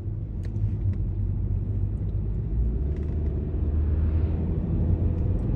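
Steady, low car engine rumble close by, a continuous even drone with faint higher hiss and a few brief clicks, no voices over it.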